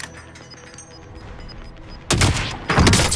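Two heavy sniper rifle shots boom out in Call of Duty Warzone during a match around a helicopter, loud and close, the first at about two seconds and the second just over half a second later, over low game ambience.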